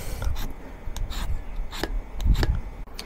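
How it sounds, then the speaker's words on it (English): Potatoes being washed and peeled for a Sichuan stir-fry, with close, repeated scraping and rubbing strokes in an uneven rhythm and no talk. "To prepare the potatoes for stir-frying, Let's wash and peeling them."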